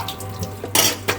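Water runs from a kitchen tap into a pot while ramen noodles are being made. A couple of short, bright splashing bursts come through, with faint clinks from dishes between them, close by and fairly quiet.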